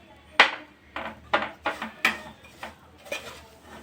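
Powdered poha is mixed for laddu in a pan, with a spoon clattering against the metal in a series of about eight irregular knocks and scrapes, close and fairly loud.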